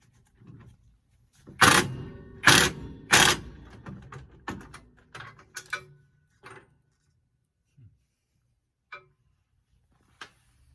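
Wrenches and parts clanking while tightening front suspension components on a 1970 Dodge Charger, three loud metallic knocks followed by scattered lighter clicks and taps that thin out, close by in a quiet garage.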